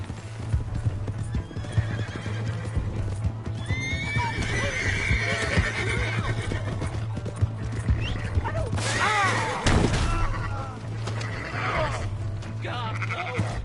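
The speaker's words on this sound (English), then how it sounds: "Hey, that's my horse!" Hooves clip-clop steadily as a horse moves in Red Dead Redemption 2, with a loud whinny near the middle, all over a constant low hum of game music.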